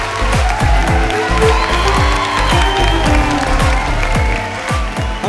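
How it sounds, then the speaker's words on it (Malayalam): Loud, close crowd applause from a studio audience at a televised quiz show, dense rapid clapping sustained throughout with a few rhythmic beats and brief cheering under it. "നല്ലൊരു കൈയടി."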